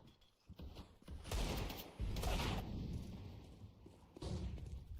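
Burst of USP pistol shots in a Counter-Strike match, several sharp cracks clustered through the middle and again near the end, loud and close amid busy game noise.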